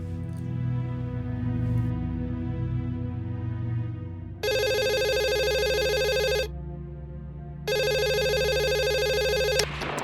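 An old-style telephone bell rings loudly in two long bursts with a pause between them, over a low background hum in an office setting.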